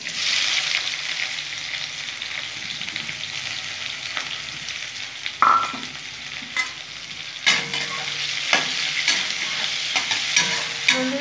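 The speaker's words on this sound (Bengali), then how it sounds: "পেঁয়াজগুলো ভেজে নেব" Onions fry in a pan with black cumin, a soft constant sizzle under repeated scraping and knocking of a spoon stirring, the strokes growing more frequent and louder toward the end.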